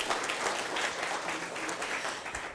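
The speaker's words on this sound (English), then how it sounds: "Oh yes, please applause." An audience at a film screening event applauds steadily and fairly close, a dense even wash of clapping that holds through the short stretch, with a faint voice beneath.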